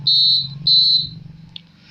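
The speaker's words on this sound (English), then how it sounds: "the alarm or the buzzer rings" A piercing electronic buzzer sounds twice in long, loud, high-pitched beeps, followed by a brief chirp over a low background hum.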